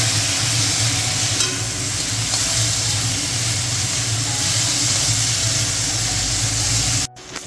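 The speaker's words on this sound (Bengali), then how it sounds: "এখন এগুলোকে ভালো করে ভেজে নেব।" Turmeric and salt fry in a hot pan as a Bengali fish curry gets started, giving a loud, continuous sizzle with faint stirring scrapes that runs steadily throughout before cutting off briefly near the end.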